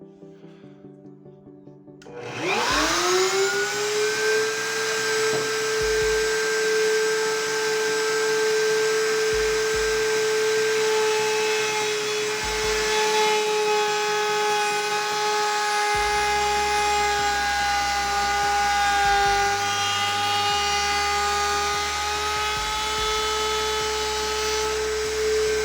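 A router spins up sharply and holds a high, steady whine while its bit profiles a wooden chair part against a template, with faint low knocks and shifting hum underneath as the cut proceeds, loud and close with no talking.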